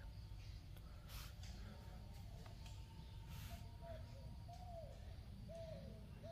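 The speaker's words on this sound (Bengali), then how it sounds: "ওই যে পাখির সুন্দর ডাক শোনা যায়।" Faint bird calls, including soft dove-like coos, drift in over a low outdoor rumble around a forest eco resort, with a few brief rustles near the start.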